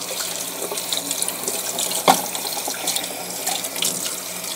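A tap runs steadily into a sink as hands are washed clean of shaving cream and dye, a close, continuous splashing hiss with a brief knock partway through.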